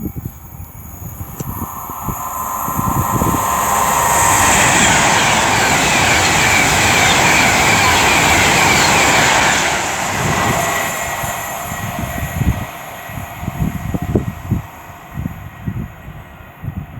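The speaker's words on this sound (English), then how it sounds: "now approaching will be 39141 for Avanti West Coast, working 1 Sierra 82" Avanti West Coast train led by 39141 from London Euston to Glasgow Central passes through Tamworth on the West Coast Main Line, swelling into a loud rushing roar with a steady high whine, then fading into clattering wheel thumps.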